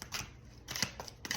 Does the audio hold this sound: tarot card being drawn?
yes